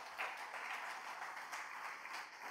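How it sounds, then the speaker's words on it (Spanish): Congregation clapping in church, a fairly soft, continuous patter of many hands with slight surges, heard from a moderate distance. "¿No ofrende palmas al Señor con todo el corazón?"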